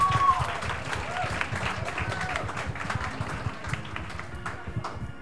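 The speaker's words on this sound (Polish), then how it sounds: "Wielkie brawa, zapraszamy." Audience clapping at a school talent show, a steady dense patter filling the room with crowd noise and voices mixed in throughout.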